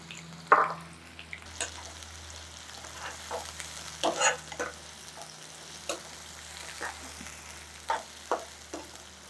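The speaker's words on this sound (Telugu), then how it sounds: "నూనె కాగిందండి. ఇదిగో ఉల్లిపాయలు, పచ్చిమిర్చి," Chopped onions and green chillies sizzle in hot oil in a pan, a low steady crackle punctuated by occasional clinks and scrapes of stirring.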